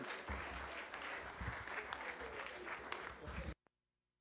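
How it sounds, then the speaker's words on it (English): Conference audience applauding a speaker after his talk, a dense steady wash of clapping close by for about three and a half seconds, then cutting off abruptly to near silence with one faint click. "Come on, let's put our hands together for him one more time"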